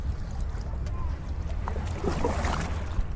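A small boat is paddled across Newport Harbor water near secluded coves, with soft splashes and dripping building toward the end over steady low wind rumble and microphone buffeting.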